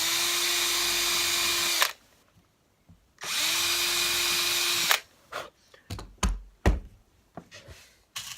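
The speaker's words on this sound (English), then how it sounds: "I'm just going to drill a 3mm hole in the centre of the back of each of those" A power drill whirs loudly in two sustained bursts drilling a 3mm hole in stormtrooper helmet parts, then falls silent, followed by a series of sharp knocks and taps.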